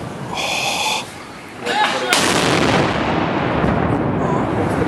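A D-30 howitzer fires in Mariinskyi Park, a loud, deep boom that rolls and rumbles on for several seconds, heard amid outdoor crowd noise and people talking.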